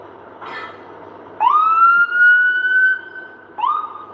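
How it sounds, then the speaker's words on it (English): A nearby ambulance siren sounds in loud rising wails heading to a hospital near the Toronto waterfront, one long tone followed by the start of another, over faint traffic rumble. "Ambulance is making a left here and going to the hospital."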